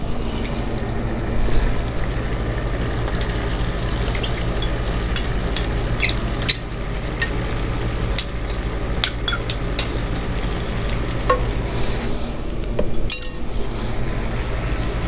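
Taro root and potatoes fry and get stirred in a pan, giving a steady close sizzle with scraping and occasional clinks of a utensil against the pan, no voices.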